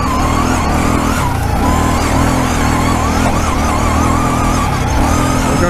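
Off-road vehicle riding a trail through a power-line riding area in Hopkinton-Everett, New Hampshire; a loud, steady engine drone with throttle surges runs continuously throughout, close to the microphone.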